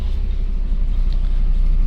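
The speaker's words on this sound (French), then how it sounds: "là on est dans le bus." Steady low rumble and road noise inside a moving bus on Réunion Island, continuous with no talking.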